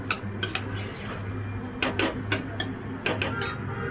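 A turmeric mixture being stirred in a metal cooking pot, with bursts of quick metallic scraping and clinking from a spoon against the pot, separated by short pauses, close and clear with low background hum.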